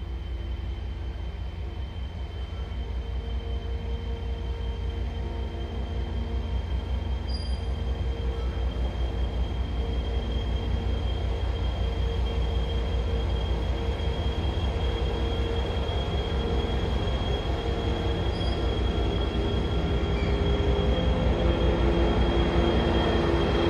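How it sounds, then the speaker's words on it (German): A Maxima locomotive of Nordic Rail Service hauls a freight train out of a rail yard at a quay in Lübeck, giving a steady, heavy diesel rumble with rolling wagon noise and faint wheel squeal that build gradually. "Am Konstinkai rollt eine Maxima der Nordic Rail Service aus dem Rangierbahnhof."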